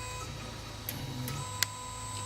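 A JGAurora A5S 3D printer moves its head to the first of five manual leveling points, giving a steady low motor whir with faint ticking and a single sharp click near the end, alone with no talk.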